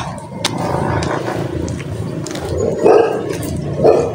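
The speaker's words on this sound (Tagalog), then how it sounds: "Pinakahula na tayo ng aso." A dog barks outdoors near a house during a walk, with a couple of short barks standing out over background noise and movement.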